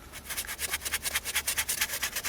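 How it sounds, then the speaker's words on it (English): A leather sanding pad rubs back and forth over the rough leather rim of an E30 BMW M3 Sport Evolution steering wheel, giving a quick, even run of soft scuffing strokes close up with no talk. "this is, they call it the leather sanding pad"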